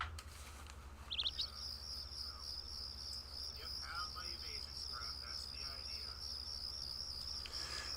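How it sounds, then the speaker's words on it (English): Crickets trill in a continuous high chirping chorus from the Persona 4 Golden video game soundscape, with a few brief bird chirps early on over a low steady hum. "right now you should just be hearing birds chirping and crickets whatevering in the background"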